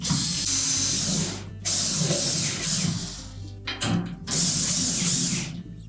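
Bolts are tightened by tool on the tub assembly of a Whirlpool washer during a transmission seal replacement. A close, steady rasping and ratcheting noise runs on, broken by brief pauses.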